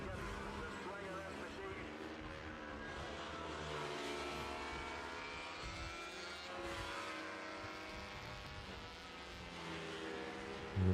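Classic racing motorcycles, including 350-class machines, run on a circuit during a Sunday race at a classic bike festival, their engines a continuous, moderately distant drone that rises and falls as a commentator talks over it.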